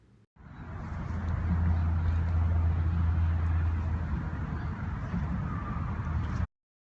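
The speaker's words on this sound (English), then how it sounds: "Taken from the westernmost point of the island, city traffic and some wildlife can be heard." Distant city traffic hums as a steady, low, even rumble heard across the water from the westernmost point of Matagarup island, with no voices.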